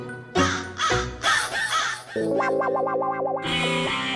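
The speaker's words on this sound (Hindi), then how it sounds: "मुझे कौवा बोल रहा" Crow caws ring out in a few loud, harsh calls, heavily processed with distortion and effects, followed by a warbling synthetic tone and a final burst.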